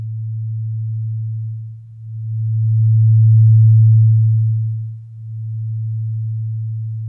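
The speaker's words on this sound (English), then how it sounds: "you'll hear the activation of the fork" A weighted tuning fork, used for biofield tuning, hums with a steady, pure low tone that swells and fades, dipping twice as it is activated again, heard alone without talk.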